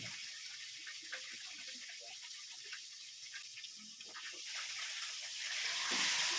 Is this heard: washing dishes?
yes